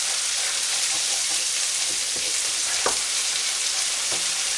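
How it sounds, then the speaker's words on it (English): Vegan kofte curry sauce with onions fries in oil in a pan, giving a steady, loud sizzle with a few soft knocks of stirring. "So that then starts to reduce, starts to fry again."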